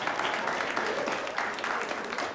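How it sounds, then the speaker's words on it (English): An audience at a live poker awards show in a Las Vegas studio claps, a brief moderate burst of applause heard close and alone. "Not worthy of a huge round of applause."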